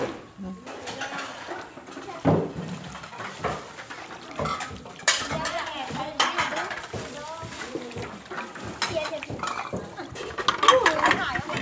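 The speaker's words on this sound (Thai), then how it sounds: "นี่มาล้างถ้วยล้างจานกันพี่น้องเลย" Dishes and cups are washed at a temple to prepare for a merit-making festival. Ceramic and metal clatter and clink repeatedly, with water splashing, while people talk nearby.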